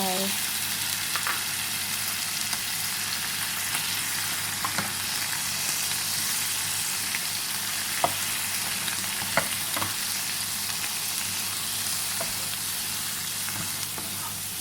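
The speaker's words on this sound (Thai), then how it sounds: "คนเบาๆนะคะ อย่าให้ไข่เละนะคะ" Eggs and chili fish sauce are gently stirred in a pan, giving a steady close-up sizzle throughout with soft, scattered scrapes and taps of the stirring utensil, and no voices.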